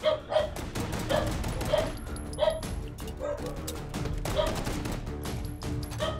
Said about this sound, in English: the dogs are barking because the vacuum's going